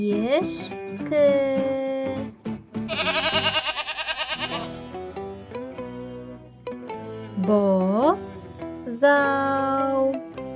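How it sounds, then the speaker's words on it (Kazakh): A goat bleats in a loud, wavering, quavering cry midway through, alone and near, surrounded by short spoken words and other brief animal-like calls. "ешкі"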